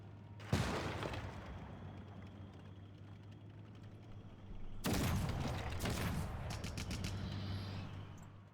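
Artillery cannons firing in the strategy game Civilization 6, two loud broadband booms around one second and five seconds, each trailing into rumbling battle noise over a steady low hum.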